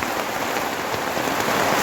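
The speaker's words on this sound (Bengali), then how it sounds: "বাইরে প্রচুর বৃষ্টি গাইস" Dense, steady roar of heavy rain pounding a surface, loud and continuous with no voices.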